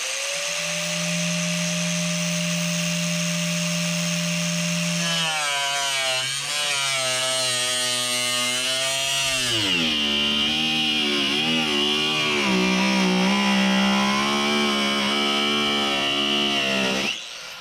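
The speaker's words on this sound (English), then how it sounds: "maybe just get our Sawzall in there" A Sawzall reciprocating saw cuts into the hood of a Mustang GT, its motor whining loud and close, holding a steady pitch before it wavers and climbs as the blade bites through the metal.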